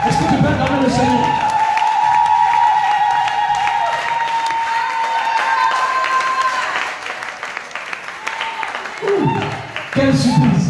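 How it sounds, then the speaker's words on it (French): Church congregation applauding and cheering the Lord, a loud sustained wash of clapping and shouts with sung or called voices mixed in, easing briefly near the end before swelling again. "Est-ce que tu peux acclamer le Seigneur?"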